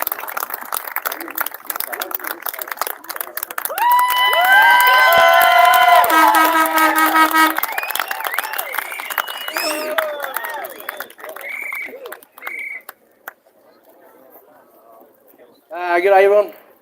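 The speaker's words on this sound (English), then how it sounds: "Big round of applause." Crowd claps and cheers for men called up onto a stage at a political protest convoy rally in Canberra, a dense burst swelling and fading, with whistles and shouts mixed in before a voice begins speaking to the crowd.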